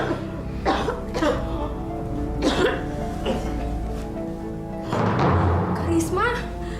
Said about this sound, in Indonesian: kenapa bisa batuk darah begini?